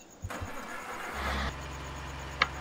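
A Cat tractor engine in Farming Simulator 2013 cranks with a couple of quick turns, then catches and settles into a steady low idle, with a short sharp click near the end.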